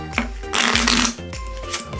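Playing cards riffled and shuffled by hand during a card trick, with several bursts of crisp fluttering card noise and a longer continuous riffle in the middle, close and fairly loud.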